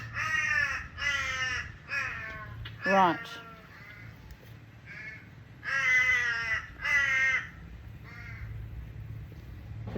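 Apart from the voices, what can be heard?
crows cawing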